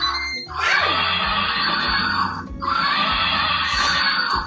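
Two loud, close horse neighs, each a long shrill whinny lasting about two seconds, separated by a short pause.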